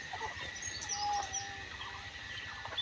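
Quails kept in net cages in a small backyard shed give faint, high chirps and short calls scattered over a quiet background hiss.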